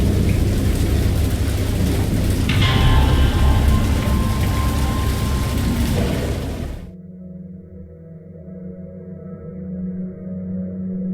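Heavy rain pours with a low rumble of thunder, then drops abruptly to a quieter, steady patter with a faint hum.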